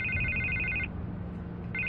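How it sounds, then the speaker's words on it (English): A telephone rings in a Batman: The Telltale Series game scene, a steady electronic trill that stops and then starts again, moderately quiet over a low background hum. "I can't get the phone to stop ringing"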